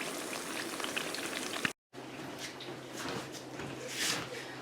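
Plantains frying in a pan for maduros and tostones, a steady sizzling crackle with scattered pops, close and moderately loud, broken by a brief silent gap partway through.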